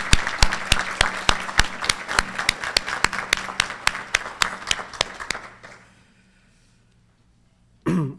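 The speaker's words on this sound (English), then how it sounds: "So I think we owe him a real round of applause." A luncheon crowd claps in a fast, crisp, steady rhythm of many hands for about five seconds, then fades to near silence, and a brief burst of noise follows at the very end.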